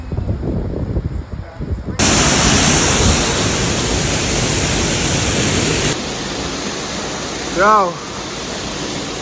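Loud, steady roar of a mountain waterfall and rapids on a hike to waterfalls, close by and filling the scene; someone speaks briefly at the start and a short rising chirp cuts through near the end.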